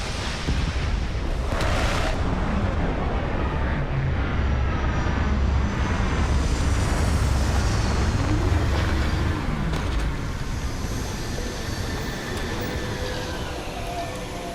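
A spaceship sets down in the video game Starfield, a loud, sustained engine roar with a rumbling low end, holding steady throughout before easing slightly toward the end.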